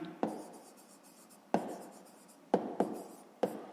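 Pen on paper in a school maths notebook, a quiet scratching of handwriting broken by five sharp taps as the pen touches down, with no talking.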